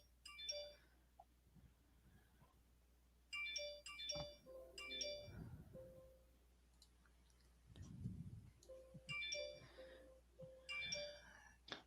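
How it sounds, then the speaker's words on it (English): Phone notification sounds go off in repeated bursts, bright electronic chimes and dings clustering in quick runs with quiet gaps between, faint over a low background hum. "Hear all your crazy notifications going off."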